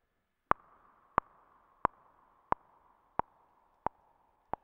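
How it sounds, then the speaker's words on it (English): Short band-pass filtered saw synth notes made in SuperCollider strike at a steady pace, about seven in all, each followed by a soft reverberant wash that hangs between hits. "That sounds like reverb to me"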